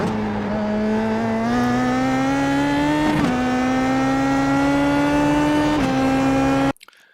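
PM18 race car at Sebring International accelerating out of a corner, a loud close engine note climbing steadily through the gears with brief shift dips, cutting off abruptly at the end.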